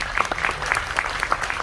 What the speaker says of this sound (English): Give Colin a little round of applause